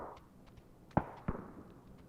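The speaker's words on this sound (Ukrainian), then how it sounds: "десь стріляє прям недалеко" Two sharp gunshots crack in quick succession, fairly close, over a low rumbling ambience in PUBG on the Karakin map.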